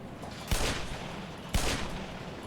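Two loud gunshots about a second apart, each with a short echoing tail, fired at magnum bullets lying on a suspended conveyor belt in the Black Mesa game, over a low steady machinery hum.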